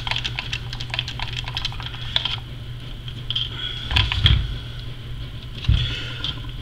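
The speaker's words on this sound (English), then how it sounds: "Get these 2 screws in." Small screws are driven into the receiver box of a Traxxas Slash RC truck, giving quick ticking and clicking bursts over a steady background hum, with a couple of heavier knocks near the end.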